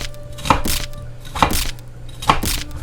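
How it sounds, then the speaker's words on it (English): A knife chops an onion into big chunks on a board, three sharp, evenly spaced cuts about a second apart, close and crisp, with quiet room noise between them and no speech. "I'm gonna cut those kind of big, so just maybe once down the middle"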